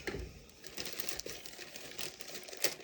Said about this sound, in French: j'ai pris des ciseaux pour éviter de vous faire trop de bruit